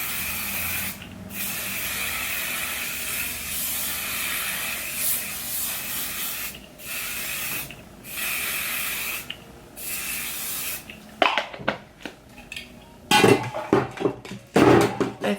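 Hair spray hisses onto the curls of a flipped bob wig in several close bursts with short pauses between them, followed by clattering and handling noises as the can is set down.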